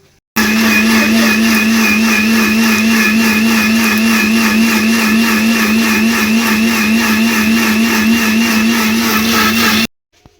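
A kitchen mixer grinds masala paste finely with no water added, a loud steady whirring drone that starts abruptly, holds constant for about nine seconds, then cuts off.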